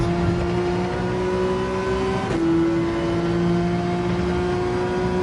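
A race car's engine holds a loud, steady tone in Gran Turismo 7, dipping sharply at one point as a gear change jolts the revs, then droning on.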